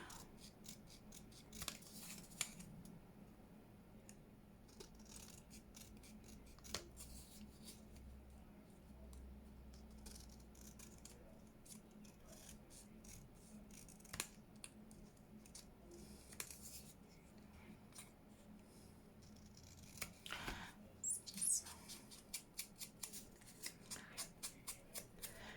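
Scissors cut through paper for a junk journal page in an altered book, with soft snips and paper rustling spread over a long, quiet stretch and a faster run of cuts near the end.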